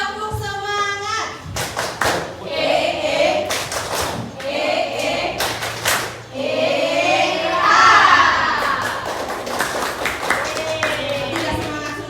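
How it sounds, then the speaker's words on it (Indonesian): A group of children performs a rhythmic spirit clap, tepuk semangat, chanting and shouting together while sharp, patterned claps and thumps land in bursts, close and loud, in a lively school gathering. "Tepuk semangat."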